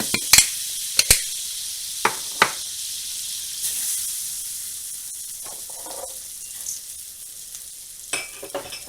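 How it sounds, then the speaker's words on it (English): Rice and orzo toasting in butter in a pan give a steady sizzling hiss, broken by a few sharp clicks and scrapes of stirring near the start and end. "So I'm going to put about 2 tablespoons of butter in here because I want to toast the rice and I want to toast the orzo"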